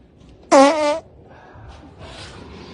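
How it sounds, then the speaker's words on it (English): A single loud, short fart blasts close to a live-stream camera, half a second long, followed by faint background noise and rustling. "farted in the camera face while he on live"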